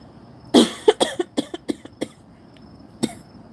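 A burst of close, harsh coughing: one strong cough followed by a rapid series of shorter coughs, then a final cough after a brief pause.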